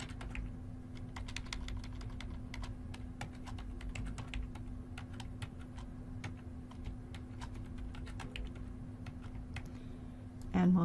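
Password being typed on a computer keyboard while setting up a console user, a steady run of light, close key clicks for about ten seconds over a constant low hum, with no speech.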